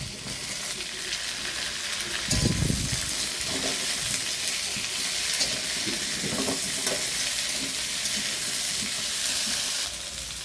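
Potato and eggplant fry in a pan, a continuous loud sizzle with stirring and scraping bursts, heard close and alone without speech.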